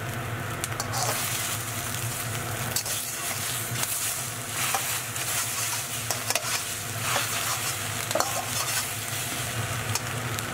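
Tomato and eggs being stir-fried in a pan sizzle continuously under repeated stirring and scraping strokes from a utensil, close and fairly loud, in a steady rhythm throughout.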